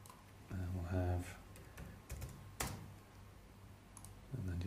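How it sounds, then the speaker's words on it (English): Computer keyboard typing as amounts are entered into project-scheduling software: scattered soft key clicks and taps, close, interleaved with a person speaking. "type in the amounts into here"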